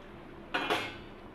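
Fried vadas drop into a pot of boiled potato curry, a short metallic clink and clatter of utensil against pot, two quick close knocks in a quiet kitchen.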